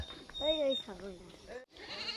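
A village goat gives a few wavering, nasal bleats up close, followed by a brief pause and a faint hiss-like rustle.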